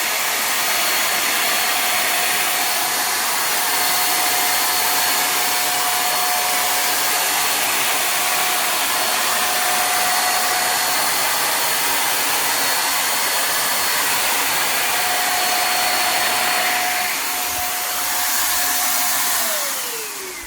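A Guild 350W electric paint spray gun runs for a long stretch with a loud, steady, buzzing motor whine and a faint thin tone above it, which shifts slightly near the end.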